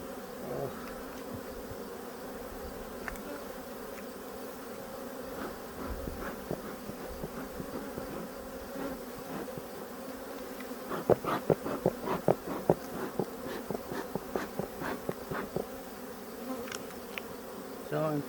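Honey bees swarming around an open hive during a late-August inspection, a steady dense buzz with individual bees zipping close past, occasional louder passes and soft clicks over the drone, no talking.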